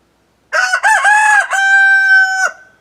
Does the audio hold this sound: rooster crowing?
yes